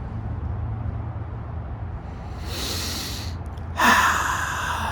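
A low rumble of wind or background noise gives way to two deep, forceful breaths after leaving cold water, a long inhale and then a sharp, heavy exhale close by.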